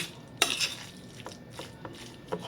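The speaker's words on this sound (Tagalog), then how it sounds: "Halu-haluin lang mabuti" A spoon scrapes and clinks through lumpia shanghai filling in a bowl, giving a sharp clatter at first, then a few softer, scattered taps and stirs, close and fairly quiet.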